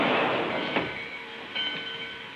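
A train runs along rails, giving a fairly quiet, steady rolling rumble broken by a few light clicks and rattles, with no voices.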